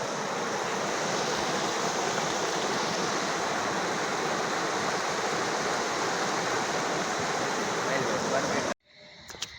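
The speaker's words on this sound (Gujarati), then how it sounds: "પુલ માટેથી પાણી ટપે છે." Floodwater pours over a submerged bridge during heavy rain in a steady, loud broadband roar that fills the scene, then cuts off abruptly near the end with a brief rustle.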